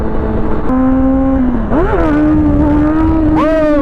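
A 2023 Suzuki GSX-R1000 sport bike accelerates hard, its loud engine note rising in pitch through steady pulls with quick shift breaks between them, close and continuous with no talk.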